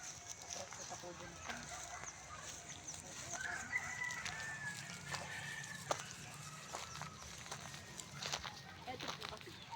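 A rooster crows faintly in the distance over steady outdoor ambience, with scattered soft clucks and light rustling throughout.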